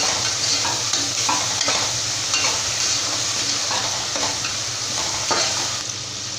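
Chopped tomatoes with salt and turmeric sauté in a pan for mint biryani, giving a dense, loud, steady sizzle with rhythmic stirring scrapes and occasional spatula knocks close up, no voices.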